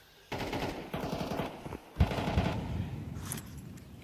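Rapid automatic gunfire in a Counter-Strike match, several close bursts of repeated shots with short pauses between them, no voices.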